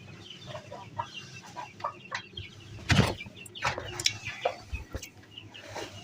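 A hen sitting on her eggs clucks in short, soft, scattered bursts at close range, with one louder squawk partway through, against a quiet background.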